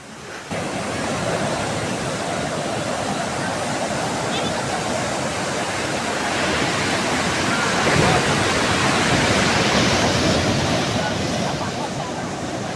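Sea waves at Kuta Beach, Bali, wash continuously onto a shore almost covered by high water, in a broad, steady roar that swells slightly louder toward the end.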